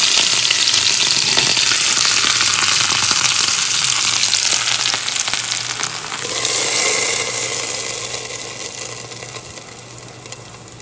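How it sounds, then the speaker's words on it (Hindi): Loud, steady sizzling of spices, chili and ginger dropped into hot oil for tempering, a dense crackling hiss that briefly dips and then swells again, with no voices. "बहुत जल्दी से तड़का हमें लगा भी देना है।"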